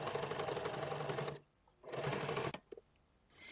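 A sewing machine stitches straight across a skirt placket in two loud, steady whirring runs, each about a second long, with a short pause between them and a few soft clicks after.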